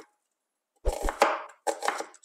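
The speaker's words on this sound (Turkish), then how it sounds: "Şimdi bir adet kuru soğanımızı yemeklik olarak doğruyoruz." A dry onion being finely diced with a knife on a cutting board, two quick bursts of close, crisp chopping strokes after a brief silence, with no talking.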